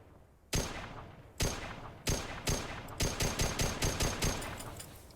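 Single-fire gunshots from a weapon in the Arma 3 Mass Effect Opposition mod, a video game: about a dozen sharp, loud cracks, the first few spaced slowly, then a faster steady rhythm with short decaying tails.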